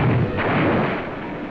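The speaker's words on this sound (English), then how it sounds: "Our guns open up with a devastating barrage, plowing a path of exploding shells over the town and airfield." Artillery barrage in archival Normandy 1944 combat footage, guns pounding shells over a town and airfield; a dense, continuous rumble of booming fire, loud and heavy from start to finish, fading slightly toward the end.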